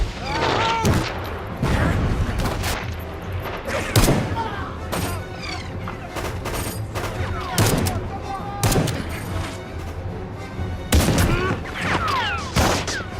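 An action film battle scene fills with a grenade blast and repeated gunfire, sharp cracks and booms recurring throughout amid shouting voices.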